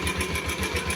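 An RKS 150 motorcycle engine runs with a ticking head after sitting two years, a rapid, even mechanical chatter with regular pulses, close and steady throughout.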